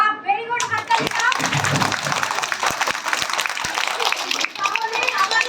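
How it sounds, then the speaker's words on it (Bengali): Children clapping in a classroom on Children's Day, a burst of scattered applause mixed with loud overlapping voices of kids and an adult. "বাহ, ভেরি গুড, হাততালি দাও।"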